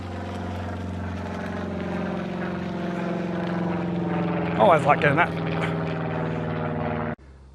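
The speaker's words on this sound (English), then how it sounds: "There's a plane flying overhead." A propeller plane drones steadily overhead, a loud harmonic engine hum throughout that cuts off abruptly near the end, while someone speaks briefly over it.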